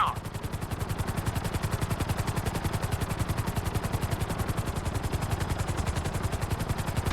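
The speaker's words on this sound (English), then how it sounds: "To maximize acceleration, keep the nose of the helicopter tipped." A helicopter in Grand Theft Auto V, flown at full speed with the nose tipped down during flight school, gives a loud, steady, rapid rotor chop that pulses evenly and continuously throughout with no voices.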